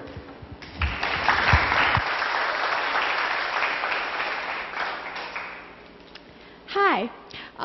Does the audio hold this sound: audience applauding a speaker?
yes